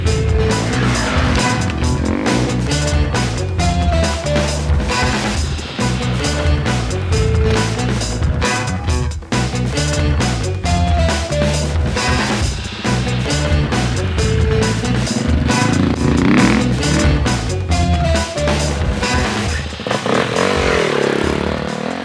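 Enduro motorcycles ridden around the Gilgarran Enduro Centre, with loud continuous engine revving that rises and falls, close by and dense throughout, with no talk.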